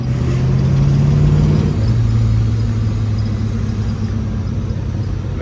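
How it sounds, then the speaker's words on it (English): A 1965 Malibu with twin TorqStorm superchargers pulls under light throttle, its engine a steady close-up rumbling drone with a shifting tone partway through and a continuous whir underneath. "I'm not even giving it full throttle, just barely easing into the gas pedal, and you can instantly feel the difference from when the car was NA versus now with the twin TorqStorms"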